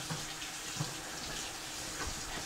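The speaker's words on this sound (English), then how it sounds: "So now I'll add some cold water to it" Cold water runs steadily into a pot of drained cooked rice, a continuous close splashing pour with no speech.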